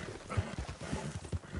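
Horse hooves clip-clopping in the Red Dead Redemption video game, a quick, uneven series of hollow thuds at moderate loudness, alone without speech.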